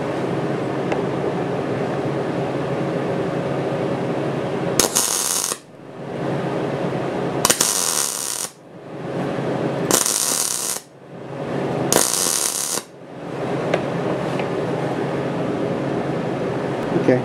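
Test welding on a back plate for a 6-jaw lathe chuck: four bursts of crackling, buzzing arc a second or two long, each followed by a drop to quieter room noise, loud and close.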